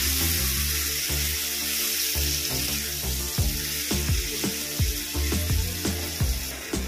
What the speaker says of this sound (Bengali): এবার ভালো করে এটাকে নেড়ে নেব।